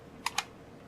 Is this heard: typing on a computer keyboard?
yes